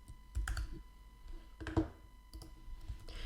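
Keys clatter on a computer keyboard in short irregular bursts of clicks, quiet and close, separated by brief pauses, with a faint steady hum underneath.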